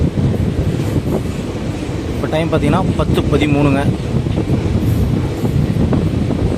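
On board the Madurai–Coimbatore passenger express near Udumalaipettai, a steady rumble of the moving train runs throughout with wind noise, as someone talks close by.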